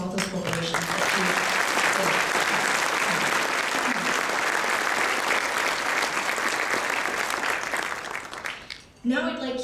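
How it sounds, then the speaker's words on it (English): Audience at a Calgary leadership award event breaking into a sustained round of applause, dense clapping filling the room for about nine seconds before fading as a voice returns. "So let's give a round of applause to all those corporations"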